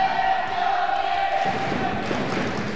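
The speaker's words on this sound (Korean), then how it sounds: "관중들의 환호를 부르고 있는 경희대학교의 플레이" Crowd cheering fills a university volleyball match in the 2018 KUSF U-League, Kyung Hee University against Gyeongnam National University of Science and Technology, a steady broad roar of many voices lasting throughout and swelling slightly toward the end.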